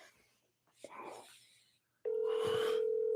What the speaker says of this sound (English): It's your phone, Misha.